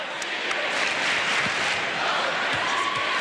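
College basketball student section at a Kansas Jayhawks home game against Eastern Washington chanting and cheering, a broad continuous crowd roar with claps, moderately distant.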